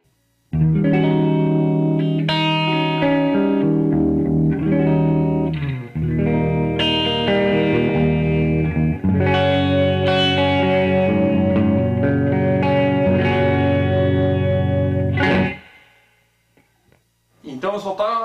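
An electric guitar plays chords and single notes with a fairly clean, lightly effected tone, ringing out before fading to quiet near the end.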